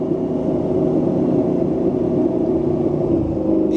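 A 1550 whp Shelby F150 truck engine cruising at part throttle with boost building, a steady, loud, dense rumble with a jet-like whoosh, continuous and close, with no speech.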